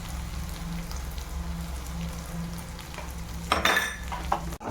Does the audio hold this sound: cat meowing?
no